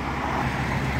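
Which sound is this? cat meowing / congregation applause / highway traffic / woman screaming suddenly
highway traffic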